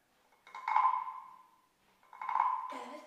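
A wooden rana, or frog-shaped percussion instrument, scraped in two rasping, croaking strokes separated by a short pause, close and fairly faint, with no talking over it.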